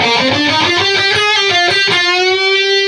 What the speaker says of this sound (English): This is an alternate picked riff as well.